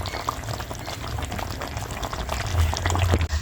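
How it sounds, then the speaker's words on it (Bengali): Mustard oil drizzled over Bengali papda fish curry in mustard gravy, heard as a steady bubbling, liquid simmer with a light pouring hiss, swelling slightly louder toward the end, with no talking. "অল্প একটু সরষের তেল ছড়িয়ে দেবো"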